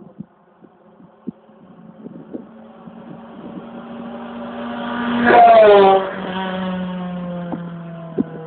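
A race car climbs toward the finish at the Týn nad Bečvou hill climb, its engine note rising from a distant drone to a loud pass, then easing off, with faint clicks and murmurs from spectators nearby.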